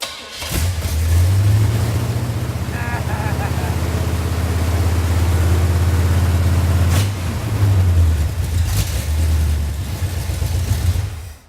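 Car engine cranking while the carburetor bowl fills, with a loud, close, steady whirring crank that briefly dips and resumes, while people talk over it.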